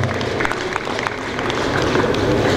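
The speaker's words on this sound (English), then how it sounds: "A round of applause for him." Applause from the audience at a 2018 police security summit, a continuous wash of many hands clapping at moderate loudness, slightly swelling toward the end.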